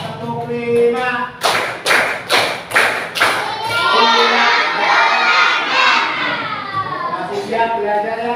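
Schoolchildren clap together in a tight rhythmic pattern of loud, evenly spaced bursts, then cheer and shout as a group, with an adult teacher talking before and after.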